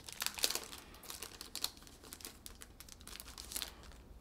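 Close, quiet crinkling and tearing of plastic packaging as a packaged badge on a laminated card is opened, in rapid rustling bursts with no talking.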